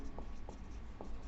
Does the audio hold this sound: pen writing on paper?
yes